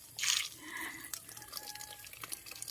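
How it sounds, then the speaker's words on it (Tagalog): Water drips from freshly watered succulents such as donkey's tail and burrito: a brief splash, then scattered small drips and trickles, quiet and close, without talking. "Ayan, tingnan nyo, tumutulo-tulo pa dyan."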